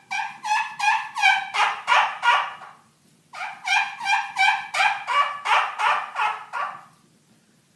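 A high-pitched young turkey call imitated on a hand-held turkey call: two close, loud series of quick, rhythmic yelps separated by a short pause, with no talking.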